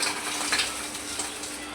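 Gobi fries in a pan with a steady close sizzle, broken by a few soft stirring scrapes and clinks, with no talk.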